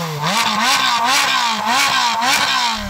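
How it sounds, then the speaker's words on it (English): Ferrari 458 Speciale flat-plane-crank V8 revved hard several times in quick succession, loud and close, with rising and falling pitch sweeps between blips and no talking. "Go on, Andy, rev up your Speciale."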